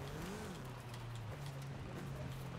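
A VW Beetle rally build in Forza Horizon 5 hums with a steady, fairly faint engine drone, its pitch wavering slightly and dipping briefly as it drives over rough ground.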